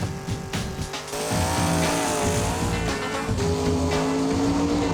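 A Chevelle launching down an eighth-mile drag strip, its engine roaring loud and steady with rising and shifting tones, tire noise at the start, sustained close and powerful for several seconds without speech.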